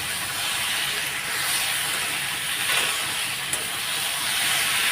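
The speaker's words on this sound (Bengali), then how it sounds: "মাছের তেলটাও দিয়ে দিলাম একবারে একসাথে ভাজা ভাজা করে নেব" A steady, close sizzling hiss of rohu fish fat frying in oil in a pan, continuous and fairly even, with no voices.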